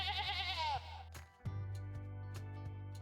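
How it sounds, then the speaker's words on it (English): A sheep bleats in a toddler learning video featuring a train toy: one wavering bleat at the start, followed by quieter toy sounds and knocks. "It's a sheep inside."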